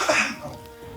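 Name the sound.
cough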